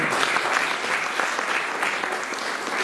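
A church congregation stands and applauds the Lord, steady dense clapping from many hands filling the room at close range, with faint voices mixed in under the applause.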